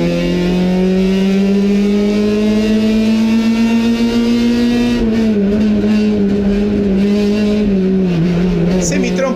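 Fiat one-make race cars at the start of a final at the Autódromo de Dolores, heard from onboard as a loud, sustained engine howl climbing in pitch through the gears, with other cars and a commentator's voice underneath.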